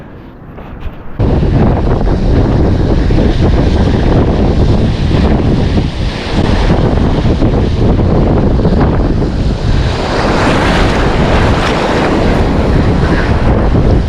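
Waves roll and wash on open water at a bass fishing spot while strong wind buffets the microphone, a loud, continuous roaring surf and gusting noise after a quieter opening second.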